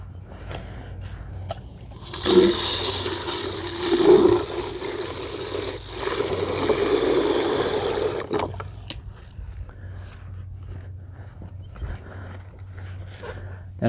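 Water pours steadily into the tank of a Mazzei injector system for about six seconds, filling it toward a three-gallon mark, a close, hissing splash that stops abruptly into a quiet room.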